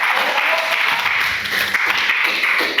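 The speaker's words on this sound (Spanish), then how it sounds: "Vamos, dale palmas al Señor de la gloria." Church congregation clapping for the Lord during an afternoon service, a thick sustained wall of applause, loud and close, with some voices underneath.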